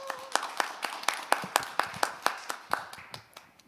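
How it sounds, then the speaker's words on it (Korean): Scattered audience clapping welcoming a speaker at a youth forum, a handful of close, crisp, evenly spaced claps from a small group that thin out toward the end. "박수로 환영해 주세요."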